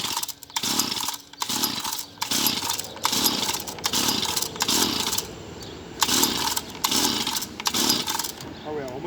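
A Stihl FS38 brush cutter's small two-stroke engine, under repair, fires up and runs with a loud, rough buzzing that surges and dips in repeated bursts, while a person talks over it.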